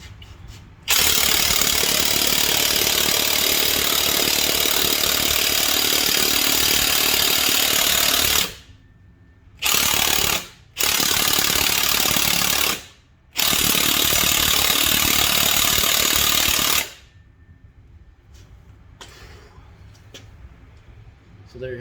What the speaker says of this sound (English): All right, one more shot with the battery impact.